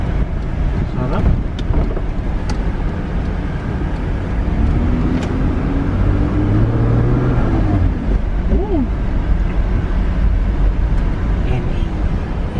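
Naturally aspirated car engine with no turbo or supercharger, droning steadily from inside the cabin under heavy road and wind rumble, loud and continuous, with a voice speaking over it.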